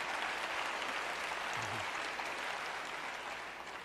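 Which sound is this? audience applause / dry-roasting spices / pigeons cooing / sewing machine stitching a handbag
audience applause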